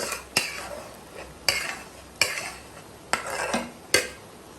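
A ladle stirs ground masala into goat head curry in a metal pot, making five sharp clanks against the vessel at roughly one-second intervals, with soft scraping and a faint sizzle between them.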